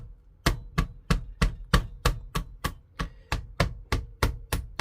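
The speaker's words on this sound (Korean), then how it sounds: "절구 방망이 없으시면 저처럼 칼끝으로 이렇게 부숴 주셔도 되고" A cucumber smashed on a board with the tip of a kitchen knife: about fourteen sharp, evenly spaced knocks in a steady rhythm, close and loud, with no talking.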